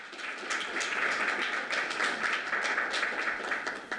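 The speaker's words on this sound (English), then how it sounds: "I think they deserve a round of applause" Audience applause at a policing-program presentation for a vocational and educational training initiative, a steady wash of many hands clapping at moderate distance, fairly even throughout with no voices standing out.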